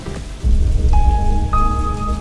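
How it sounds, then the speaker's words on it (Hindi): Steady rain falls as a loud, continuous hiss through the whole stretch, with faint tonal sounds in the background and no voices. "बारिश भी हो रही है।"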